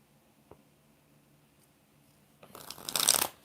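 Tarot cards being riffled and shuffled close by, a soft tap early on, then a dense crisp burst of flicking card noise that builds and fades.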